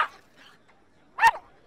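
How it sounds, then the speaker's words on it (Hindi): A dog barks once, close and sharp, after a few faint whimpering sounds and quiet background voices indoors. "ये टॉमी किस पर भौंक रहा है?"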